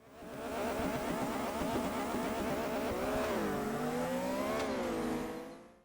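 A race car engine in the budget PC racing game Need for Drive, a loud buzzing whine that holds steady, then climbs and dips as the car revs through gear changes, alone and close.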